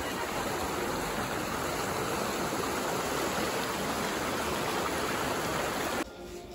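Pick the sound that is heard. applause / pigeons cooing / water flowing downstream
water flowing downstream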